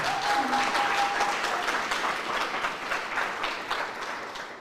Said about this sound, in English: So I would love everyone to give DLU a round of applause.